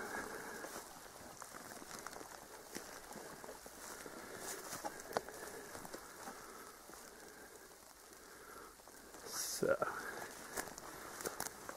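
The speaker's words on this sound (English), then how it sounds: "There's too much rain for my camera." Rain falls through a close birch forest, a soft, steady patter of drops on leaves and ground, faint and diffuse with scattered sharper taps and a slightly louder spell near the end.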